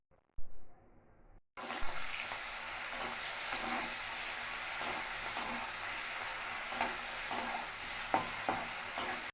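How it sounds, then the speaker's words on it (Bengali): Shrimp rubbed with salt and turmeric hit hot oil in a wok, breaking into a loud, steady sizzle after a brief quiet start, with occasional pops and crackles throughout and no talking. "এইবার আমি চিংড়ি মাছটা ভাজা করে নেব"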